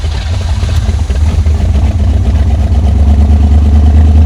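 An abandoned big-block Buick engine churns and runs with a loud, steady low rumble, close up and continuous, with no talking.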